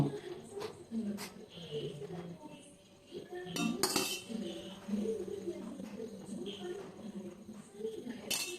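Serving spoons and utensils clink and scrape on plates and pans as a home dinner of rice, tapioca, beetroot curry and mackerel curry is dished out, with scattered close metallic taps and faint chatter in the background.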